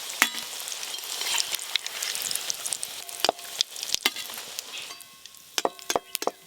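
Elephant foot yam koftas frying in hot oil, a constant fine crackling sizzle with scattered sharp pops and occasional utensil taps, close and without talk.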